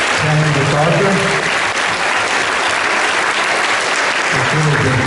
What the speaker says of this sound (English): Let's give another round of applause to Adam Karlen, Tammy McArthur.